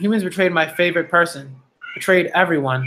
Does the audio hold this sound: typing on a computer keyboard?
no